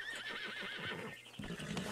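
A horse in the video game Red Dead Redemption 2 gives a loud, wavering whinny up close, followed by a brief clip-clop of hooves, with no talk over it.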